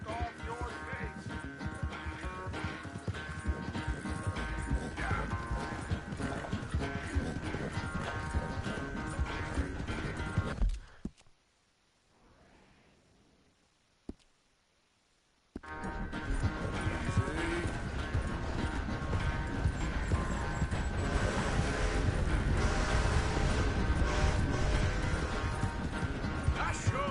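Horse hooves clip-clop steadily during riding in the video game Red Dead Redemption 2, loud and continuous under game ambience, dropping away briefly midway before resuming at full level.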